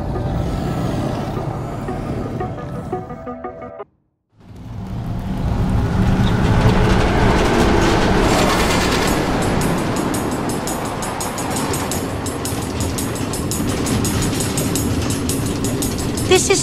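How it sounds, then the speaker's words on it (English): An automated train in the Minecraft Story Mode video game runs along its tracks with a steady, continuous rolling rumble that briefly cuts to silence before resuming. "Automated train tracks running all through the Nether, connecting all the different order members?"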